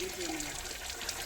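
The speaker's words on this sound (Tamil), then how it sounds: "ஊற்று தண்ணி தான் அது." Natural spring water flows at a small falls near the Rakkayi Amman temple outside Madurai, a brief steady trickling rush heard up close, with a faint voice in the background.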